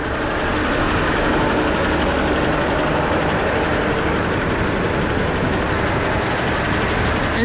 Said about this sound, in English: Engine fan's working hard today